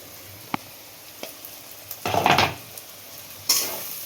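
Kashmiri spice masala with a little sugar frying in a pan for a mutton dish: a few light utensil clicks, then a short burst of scraping stir and sizzle, close and without talk.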